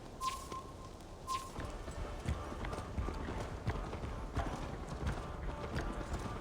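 Horse hooves gallop in Assassin's Creed Valhalla, a quick, steady clip-clop rhythm running throughout at moderate volume, with a couple of bright chime-like game sounds near the start.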